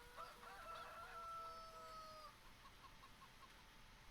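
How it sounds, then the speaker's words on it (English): A rooster in a farming video game crows one long, drawn-out call, faint and thin against a steady hiss, then trails off into softer fowl sounds. "Roosters are noisy."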